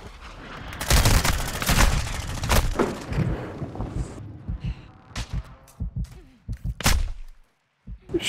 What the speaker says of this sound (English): He's sniping at you.